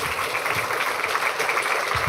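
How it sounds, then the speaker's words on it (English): Audience applause for speakers at an MIT robotics seminar, a steady dense crackle of clapping across the whole stretch at moderate level, with faint voices underneath. "Let's give another round of applause to all the speakers."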